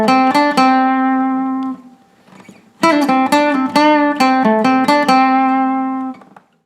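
Guitar riff played on a clean-toned guitar, a short run of plucked single notes, a brief pause, then the phrase repeated with quick picked notes ringing out.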